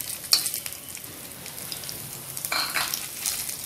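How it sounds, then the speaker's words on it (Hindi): Onions frying in a kadai pan for a dhaba-style kadai paneer, a soft continuous sizzle broken by a few metallic stirring scrapes and clinks. "अब मैं इसमें ये प्याज डालूंगी"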